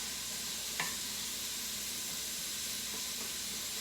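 Vegetables soften in a pan as the base for a marinara sauce, giving a quiet, steady sizzle with one faint clink partway through and no talking.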